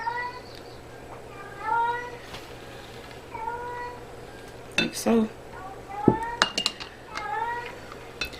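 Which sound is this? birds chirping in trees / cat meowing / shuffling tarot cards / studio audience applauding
cat meowing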